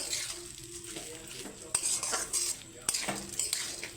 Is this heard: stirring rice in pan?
yes